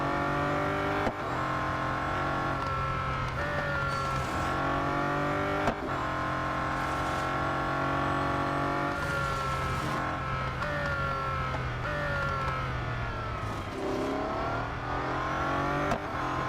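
Bugatti Centodieci engine in Real Racing 3, a car in need of servicing, sounding loud and continuous as it runs in fifth gear and overtakes other cars, with rising and falling pitch as it shifts and sweeps past.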